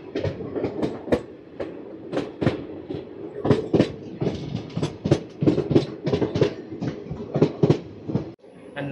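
The Vijayawada to Guntur express passenger train (07783) runs along the rails with loud, rhythmic clickety-clack wheel beats over the joints, heard close from onboard above a continuous rumbling roll, and no one speaks.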